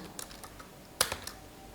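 Quiet computer keyboard typing C code: a few scattered light key taps, then a sharper cluster of clicks near the middle, with faint room tone between and no talk.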